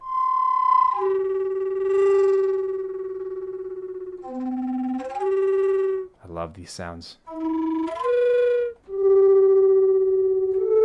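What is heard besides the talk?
Native American flute samples, Horror Flute library, without effects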